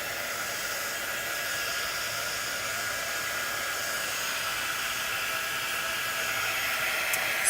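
A hair dryer blows steadily on a freshly painted birdcage, a continuous close, even airy roar with no pauses.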